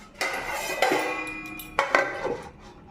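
Metal clinks and clanks as a lid goes onto a pot of cooked goat meat, several sharp knocks in two clusters with quiet gaps between, close and fairly soft, with no talking.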